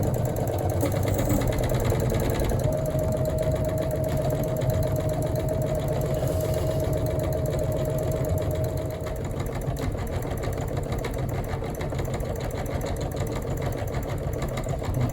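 A Singer EM200 embroidery machine stitches continuously, a steady, loud, close mechanical whir with a rapid needle rhythm that holds unbroken throughout.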